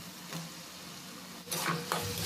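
Long-cut potato strips sizzle in spiced oil in a pan for a bean and potato curry. The steady close hiss is broken by scraping stirs of a spatula that grow louder near the end.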